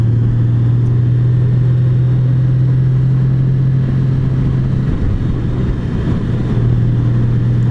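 A 2019 Honda Goldwing motorcycle engine hums low and smooth at around 2400 RPM while riding, a steady close drone with wind noise and one brief dip midway.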